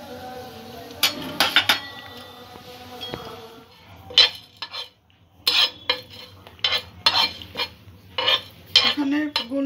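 Whole cumin, fennel and peppercorns dry-roasted in a pan, stirred with a utensil in irregular scraping strokes with metallic clinks and short pauses between, close and fairly quiet.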